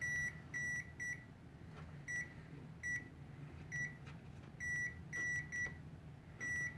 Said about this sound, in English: So you have that audible beeping.